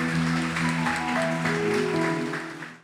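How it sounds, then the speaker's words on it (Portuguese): A church congregation claps together while sustained organ or keyboard chords ring underneath, the applause steady before fading out at the end. "E vamos aplaudir o nosso Senhor."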